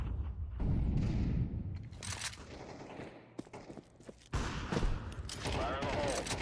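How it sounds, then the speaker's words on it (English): An incendiary grenade and a flashbang are thrown in Counter-Strike 2, heard as a mix of in-game bursts, rumbling fire and clatter, with a sharp loud hit midway and movement sounds. "Incendiary out. Throwing flashbang. Throwing fire."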